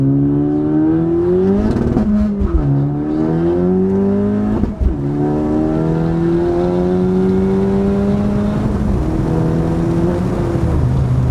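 A turbocharged 10th-generation Honda Civic Si with full bolt-ons and an upgraded turbo accelerates hard in first gear, its loud engine note climbing steadily in pitch with a brief dip mid-pull, heard close up from inside the car.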